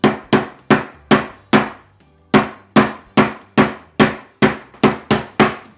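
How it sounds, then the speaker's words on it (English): A rolling pin pounds a block of cold butter on a work surface in sharp, loud, close thuds, about a dozen in a steady rhythm with one brief pause partway through, with no talking. "We're gonna hit it to soften it up without getting it warm."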